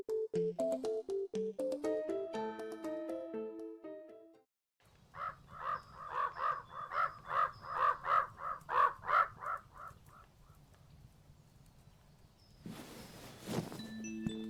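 In the video game Pumpkin Panic, a crow gives a rapid run of rhythmic cartoonish caws, loud and close, after a short synthesized chime melody, and a burst of noise comes near the end.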